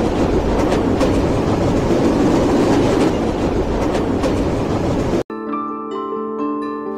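Rupsha Express train running on the tracks, a loud, steady rumble with rhythmic clatter for about five seconds, then an abrupt cut to quieter tonal sound.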